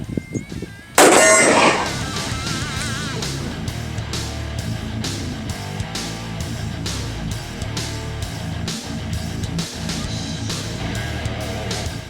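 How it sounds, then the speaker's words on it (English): Spotter rounds fired from 50 yards strike a 3/8-inch AR500 steel plate, opening with one loud sharp report and ringing clang, followed by a steady rattling run of repeated metallic impacts. "those spotter rounds on a 3/8 AR 500 plate from 50 yards did nothing"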